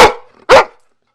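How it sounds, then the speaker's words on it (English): A dog gives two sharp, loud barks close by, separated by a short pause, then silence. "No, no bark."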